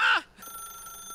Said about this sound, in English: Stop ringing!